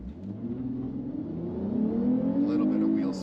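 A Lexus IS 350 with a 3.5-liter V6 accelerates hard from 0 to 60 mph, its engine note rising steadily in pitch and loudness as it pulls through the gear, heard from inside the cabin.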